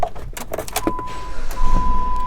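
Electric power window motor in a 2016 Jeep Patriot SE whirring steadily for about a second and a half after a few clicks and knocks, close by inside the cabin with no talking.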